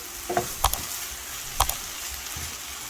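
Minced chicken and mashed boiled potato for samosa chicken roll filling are mixed in a pan. A soft sizzle lies under a few sharp scrapes and taps of the spoon, close and sparse.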